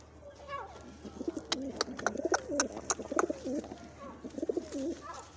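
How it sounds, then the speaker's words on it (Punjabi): A pet pigeon coos in repeated, rolling phrases close by, with sharp clicks and brief bird sounds between them and quiet human voices in the background. "ਆ ਸਾਡਾ ਕਬੂਤਰ ਹੈ"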